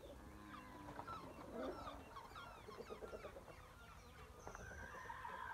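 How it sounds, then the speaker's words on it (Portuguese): Birds call outdoors at sunset near a bamboo thicket and a tree full of doves, a busy mix of clucking and chirping at low volume, some calls nearer and some distant. "Olha os pássaros."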